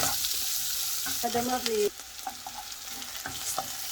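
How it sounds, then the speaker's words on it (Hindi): Onions fry in oil in a pan, a steady close sizzle running throughout, with brief tonal scraping from stirring partway through and a few light taps of the spoon on the pan. "हम जो है पहले अपनी प्याज को फ्राई करेंगे"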